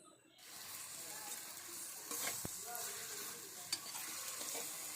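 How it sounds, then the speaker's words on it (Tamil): Chicken being stirred with salt and turmeric in a pan while roasting, with a steady sizzle of frying under continuous scraping and a few sharper clinks of the utensil. "எல்லாமே நல்லா சேர்கிற அளவுக்கு மிக்ஸ் பண்ணிக்கோங்க"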